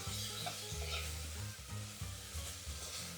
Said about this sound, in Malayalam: മുളക് പൊടി പിന്നെ കുറച്ച് ഗരം മസാല ആഡ് ചെയ്ത് കൊടുക്കുന്നുണ്ട് നല്ലപോലെ മിക്സ് ചെയ്തെടുക്കുകയാണ് അടി പിടിക്കാതെ നോക്കണം